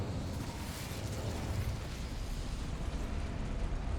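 Incendio fire spell cast in Hogwarts Legacy, a dense, roaring burst of flame that stays loud and steady for the whole stretch, with heavy low rumble and crackling hiss and no talk over it.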